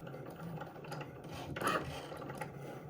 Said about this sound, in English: I've got my Cricut and I'll load my mat. When this light begins to blink, I can hit play and begin the cut.